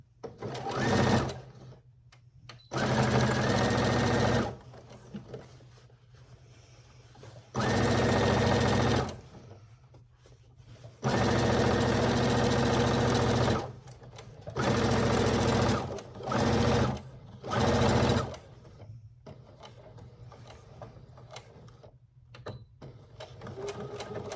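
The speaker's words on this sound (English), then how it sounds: "Okay, so I'm gonna secure it in place. There we go, and I'm gonna start stitching." Sewing machine stitching a small boxy fabric pouch, running in several steady, loud runs of one to three seconds with quiet pauses in between, heard up close.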